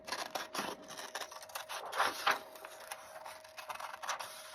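Scissors snipping out a paper Easter craft, a close run of soft irregular cuts with a couple of louder snips near the middle, no talking.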